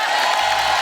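Studio audience at a comedy talk show breaking into cheering and applause for Pawan Singh, a dense crowd roar filling the whole short moment with no speech over it.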